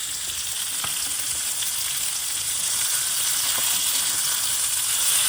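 Semolina-coated fish sizzles steadily in hot oil in a pan, a close, even hiss with faint occasional taps, gradually growing a little louder.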